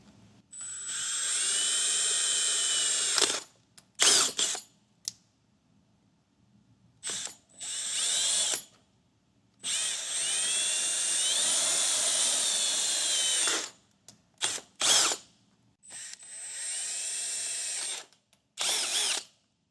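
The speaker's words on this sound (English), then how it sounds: "we're going to use a 5/16 inch drill bit" A power drill with a 5/16 inch bit whirs in several bursts, long high-pitched runs broken by short stops and quick trigger pulls, close by with no talking.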